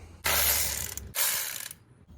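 A ratchet wrench removing 10 mm bolts on an Audi A6 3.0L engine, two close, quick clicking bursts with a short pause between them.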